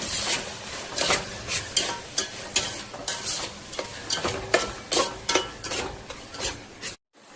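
Capsicum and other vegetables are sautéed in oil in a pan, producing a sizzle with rhythmic, repeated scraping and stirring strokes close up. The clatter comes in steady bursts about twice a second and cuts off near the end.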